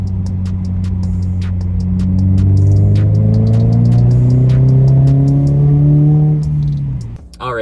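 A car fitted with a red weighted shift knob drives past loudly, its engine note climbing steadily through a rev, then dropping off abruptly at the end, with rhythmic ticking above the drone.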